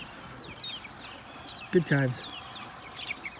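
Young chickens in a backyard homestead coop cluck in a short close burst amid faint outdoor ambience, and a person briefly speaks over it.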